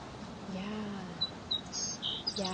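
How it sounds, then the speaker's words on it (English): Small finches by the beach giving several short high chirps, faint and scattered over steady background noise, with a faint voice briefly heard beneath. "There's all these little finches here."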